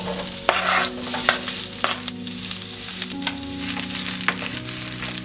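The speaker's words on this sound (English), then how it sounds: "the frying pan's hot and I'm gonna add the oil" Chopped garlic and sliced onion sizzle in hot oil in a frying pan, with a steady crackle and repeated scrapes and taps of stirring throughout, no talking.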